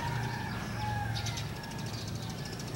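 Small birds gathered together in the morning in a rural province setting, a steady chorus of chirps and calls at moderate distance over constant background noise.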